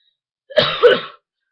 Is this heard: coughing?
yes